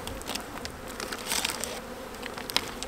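Honey bees buzzing around an opened hive in January as a pollen patty is set in, a close, dense steady hum with individual bees droning past the microphone, no voices.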